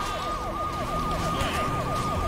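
A police siren in the shooter game Hatred yelps in rapid repeating up-and-down sweeps, steady and prominent over a low background rumble, with no talking.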